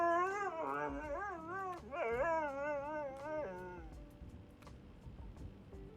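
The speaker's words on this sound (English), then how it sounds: "A dog providing service." A service dog in a video game whines and yips in a series of high, wavering cries, close and clear, fading into softer whimpers.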